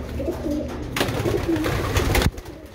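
Pigeons coo in short, soft, rounded phrases close by, with a couple of louder bursts of rustling or fluttering that end abruptly.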